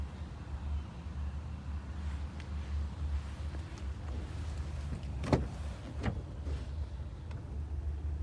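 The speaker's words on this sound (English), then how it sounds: "You've got your electric power folding mirrors. So when we unlock the car, they'll unfold." Electric folding door mirrors on a Volkswagen Passat 2.0 TDI estate unfold after the car is unlocked, giving brief whirring motor sounds and a couple of soft clicks over a low outdoor rumble.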